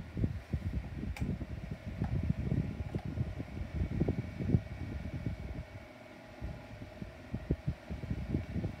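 Two 6-inch desk fans, a 2013 red Airflow and a 2009 white Igenix clip-on model, run on high with a steady low whooshing hum and irregular throbbing buffets of air close to the microphone.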